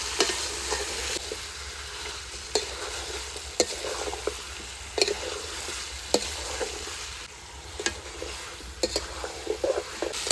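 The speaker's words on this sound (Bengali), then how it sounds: "মাংস ভালো করে কষিয়ে নিয়েছি এ দেখুন তেল ছেড়ে দিয়েছি" Chicken and potato stir-fried in oil for khichuri, a soft steady sizzle broken by repeated scraping and clinking of a spatula against the pan.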